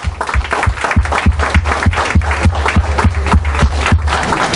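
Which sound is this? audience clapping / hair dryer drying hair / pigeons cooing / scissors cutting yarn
audience clapping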